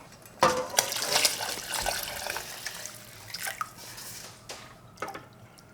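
Water running into a pot of hollow beef bones for Korean sagol bone broth, splashing and gurgling with irregular drips and pours, fairly close and alone.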